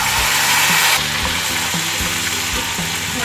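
Garlic and ginger hit browned onions in a hot pan, setting off a loud, steady sizzle and crackle with soft stirring scrapes; the hiss drops slightly after the first second.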